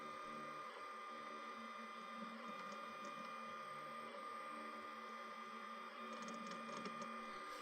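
A Lonenessl SLJ8080-AE 3D printer for kids runs with its nozzle rubbing on the print bed, a faint, steady mechanical whine and hum with light scraping and ticking on top.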